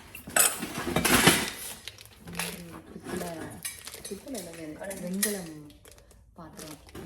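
Brass and bronze cooking vessels clink and clatter loudly near the start, with lighter knocks afterwards as the pots are handled. People talk over most of it.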